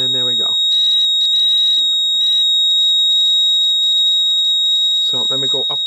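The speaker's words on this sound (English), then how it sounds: "we should start hearing the buzzer buzz" A low-voltage alarm buzzer on a sealed lead acid battery monitor sounds in loud, sharp pulsed bursts that then run as a steady tone, with a voice talking at the start and end.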